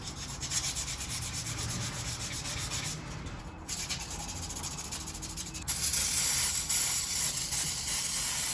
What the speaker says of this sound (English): So I got like some sandpaper here to help me